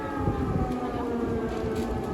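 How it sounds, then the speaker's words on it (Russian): Air raid siren wailing over Kyiv during an alert, a steady sustained tone filling the whole stretch at moderate level. "начала выть сирена"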